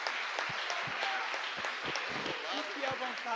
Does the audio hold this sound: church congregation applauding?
yes